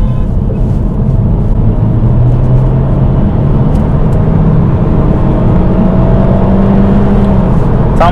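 An Audi Q2 35 TFSI or Cupra Formentor 1.5 TSI 150 HP DSG engine holds a loud, steady roar as the car drives, heard from inside over road and wind noise.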